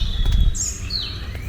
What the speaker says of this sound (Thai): ได้ยินเสียงนกไหม